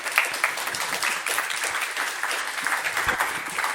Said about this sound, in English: So please, a round of applause for our panelists.